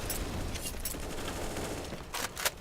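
Counter-Strike: Global Offensive gunfire crackles in a competitive match: a dense, noisy rattle of shots early on, then a cluster of sharper, louder bursts near the end, with no talking.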